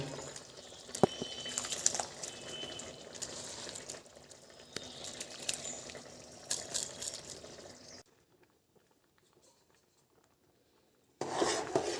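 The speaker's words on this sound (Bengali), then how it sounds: "চালটাকে একটু ধুয়ে নেব" Gobindobhog rice being washed in water for gur payesh, with steady watery swishing and rubbing for about eight seconds, then near silence before the sloshing resumes briefly at the end; no talking.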